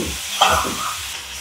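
Food stir-frying in a hot pan, a brief close sizzle and hiss with a stirring scrape, loud and steady over a second and a half.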